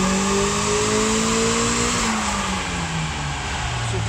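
A tuned turbocharged car makes a wide-open-throttle power run on a dyno during open-loop boost tuning, its engine note sweeping and shifting pitch as it pulls hard, loud and close with no talking.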